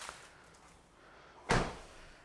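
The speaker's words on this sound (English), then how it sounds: "so we're going to close the door" A car's front door shuts once with a single solid thump partway through, after a quiet stretch, during window tinting work.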